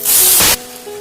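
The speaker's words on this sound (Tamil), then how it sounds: "அப்புறம் இந்த கோஸ் அரிஞ்சு வச்சிருக்கோம்ல அதையும் போட்டுருங்க." Chopped cabbage tipped into a pan of hot oil seasoned with mustard seeds, urad dal and curry leaves, giving a loud, close burst of hiss that lasts about half a second, then drops to a quiet simmer.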